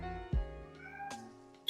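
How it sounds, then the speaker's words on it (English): A Russian Blue cat gives two or three short meows nearby, quiet and close, with a faint tonal hum of game music under them and no speech. "If you guys hear that lovely meowing in the background, that is my adorable little Russian blue cat"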